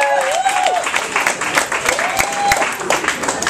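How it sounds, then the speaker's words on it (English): Crowd applause at a drag king contest, bursts of clapping and cheering mixed with whoops and a sliding tone, fairly loud and close. "Give yourselves a round of applause."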